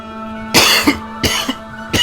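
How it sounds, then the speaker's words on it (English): Three sharp, harsh coughs in a row, close and loud, with short gaps between them over a faint steady background hum. "That was a cough."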